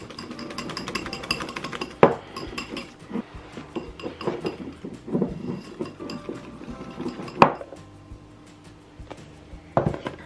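A whisk scrapes and clinks against a bowl while icing sugar is mixed for decorated Christmas shortbread icing: rhythmic tapping and scraping with a few sharp knocks against the rim, close-up and alone, with no talking.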